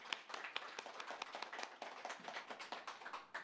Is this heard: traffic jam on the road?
no